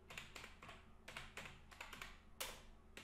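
Quiet, rapid keystrokes on a computer keyboard clatter in quick irregular bursts, close by and with no talking.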